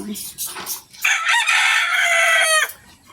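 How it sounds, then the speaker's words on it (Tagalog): A rooster crows loudly and close by in one long drawn-out call, preceded by a few short clucks from nearby chickens. "Dutag mga tingog sa imong mga langgam"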